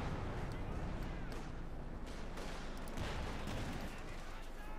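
Sherman tanks in Company of Heroes 2 firing high explosive rounds, a dense, continuous rumble of distant cannon and gunfire bursts spread across a battlefield, steady and loud throughout with no gaps.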